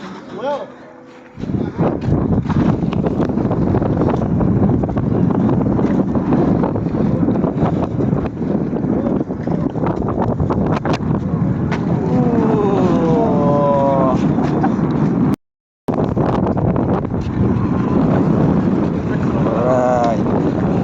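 Steady engine drone with strong wind and water rush from a boat travelling to Lamu Island, Kenya, across open water; faint voices mixed in.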